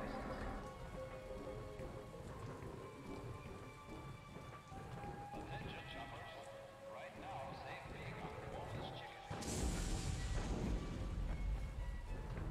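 Steady rainfall in the video game Dying Light hisses continuously, with a rumble of thunder swelling louder near the end, under faint game sounds.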